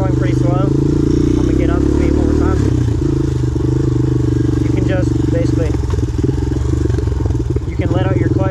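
Honda TRX250X or Raptor ATV engine runs loud and close, holding a steady drone as it picks up speed with the clutch, while a rider talks over the continuous engine noise.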